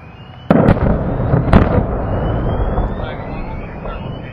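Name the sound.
munitions exploding at an ammo dump in Iraq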